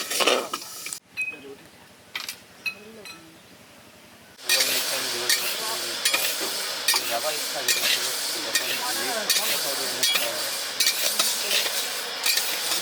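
Lentils frying and being stirred with a large spatula in a small karai at a picnic cookout; after quieter scraping and clinks, a loud, steady sizzle takes over with constant stirring and metal scrapes.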